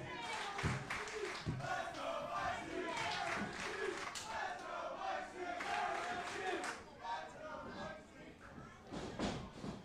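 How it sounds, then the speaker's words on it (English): A wrestling crowd at a Monster Factory championship match roars and chants for Mike Zee, a loud, dense swell of cheers and rhythmic clapping with sharp thuds from the ring cutting through, dipping briefly near the end before surging again. "Crowd emphatically behind Mike Z here."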